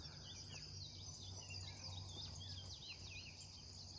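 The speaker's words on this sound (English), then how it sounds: "there's lots of birds. I love birds. And hear them sing." Birds sing in the morning around a log cabin in the Missouri Ozarks: faint, scattered high chirps and short whistled phrases over a steady insect buzz and low background hum.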